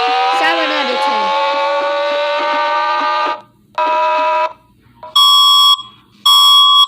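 Emergency Alert System alarm tones: a long, loud, harmonically rich two-tone blare, then a short steady tone and two bright, piercing high beeps, each separated by brief gaps, with little else in the background.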